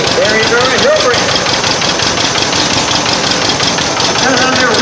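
A 1945 Farmall A tractor engine runs steadily at an outdoor old engine show, a continuous mid-pitched rumble with loud crowd chatter and voices over it throughout.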